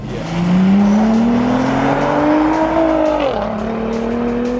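A 675-horsepower Nissan GT-R Litchfield engine pulls hard, its rising tone climbing steadily before a quick dip at a gear change and then building again, loud and close from inside the car.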